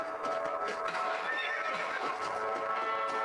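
A horse in a video game whinnies loudly and steadily while its hooves clip-clop beneath the call, close and continuous throughout.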